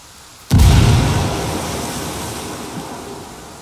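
A heavy explosion goes off in Ghost Recon Wildlands, a sudden loud boom that settles into a long rumbling roar and slowly fades over several seconds, with no voices.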